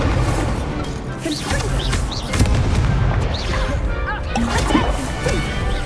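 Hogwarts Legacy combat with an Incendio fire spell cast amid a loud, continuous barrage of crashing, whooshing impacts and blasts, with shouted voices in the mix.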